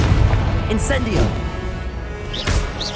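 Incendio fire spell blasts in Hogwarts Legacy, booming bursts and whooshing magical effects layered over continuous game rumble, with a voice shouting spell names throughout.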